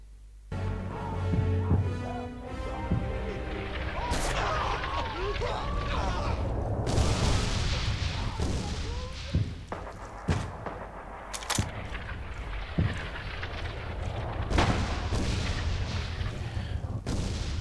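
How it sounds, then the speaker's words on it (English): Battlefield gunfire from the World War II shooter game Red Orchestra 2: sharp rifle shots and heavy booms crack repeatedly over a constant rumble, with shouted voices mixed into the din. "Boys returning fire."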